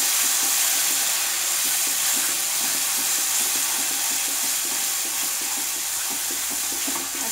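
Dum aloo curry simmering in oil over a medium flame, giving a steady, soft frying sizzle with light bubbling throughout, close and even in level, with no talking.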